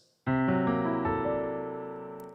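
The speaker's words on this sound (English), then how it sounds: "an idea Scriabin's called the mystic chord." A single rich, dissonant six-note chord, Scriabin's mystic chord, struck once on a piano-like instrument, ringing out and slowly decaying with no voices.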